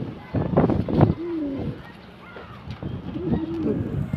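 Shapla dom pigeon cooing softly at close range, a few low rolling coos scattered among rustling and faint background noise, with people talking nearby.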